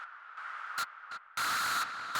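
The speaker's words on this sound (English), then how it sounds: "If I turn these things off, you can see there's the white noise." White noise run through a resonant bandpass filter in an industrial techno setup: a steady ringing, hissy tone that cuts in and out in short bursts, then swells into a louder, brighter stretch of filtered static.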